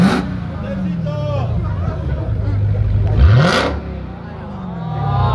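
A car at an Escape6 meet in Letňany, its engine revving repeatedly up against a 4000 rpm rev limiter, loud and close with rising and bouncing engine tones over crowd chatter.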